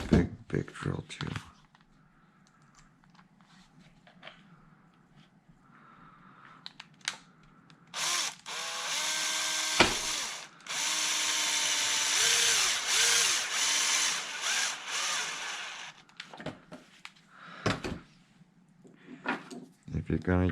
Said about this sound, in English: This is the big drill too.